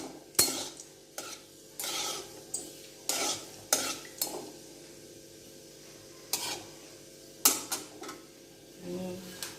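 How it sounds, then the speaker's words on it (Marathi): Tempering spices with cloves crackle in hot oil for a Marathi gulamba, heard as a faint background sizzle punctuated by about a dozen sharp, spaced pops and clinks of a spoon against the pan. "तडतड होईपर्यंत फक्त वाट बघणार आहोत आपण ह्याची।"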